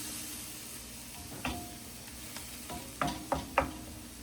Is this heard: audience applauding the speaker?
no